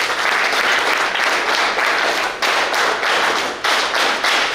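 An audience at an alcohol de-addiction camp ceremony in Deralakatte, Mangaluru taluk, breaks into loud, sustained applause, a thick continuous clatter of many hands with a couple of brief dips, and no talking over it.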